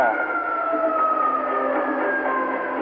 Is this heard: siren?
yes